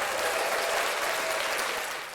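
A podcast studio audience applauds, a steady wash of many hands clapping at an even, fairly loud level that tapers off slightly at the end.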